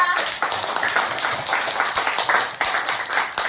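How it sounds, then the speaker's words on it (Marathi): A group of second-grade schoolchildren claps together for the winning team at a classroom quiz, an uneven burst of many hands that stays busy and fairly close throughout. "सर्वांनी मोगरा गटासाठी जोरदार टाळ्या वाजवा."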